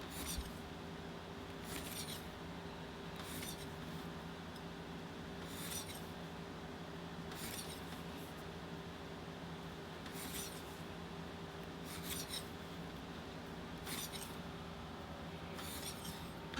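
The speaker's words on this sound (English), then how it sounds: "I'm going to skive the bottom seam so it'll kind of blend a little bit nicely into the bag" A blade skives the bottom seam edge of a leather bag in short rasping strokes repeating every couple of seconds, faint and close over a steady low hum.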